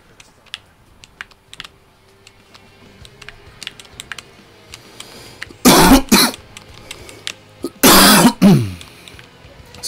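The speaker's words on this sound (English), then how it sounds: "Sorry about the coughing." Two loud, brief bursts of coughing or throat clearing break through quiet keyboard typing during a Hades gaming session, each lasting roughly half a second, with no talking.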